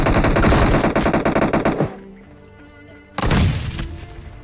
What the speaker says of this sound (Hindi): कुछ ज़्यादा ही फायरिंग साउंड आ रहे होते हैं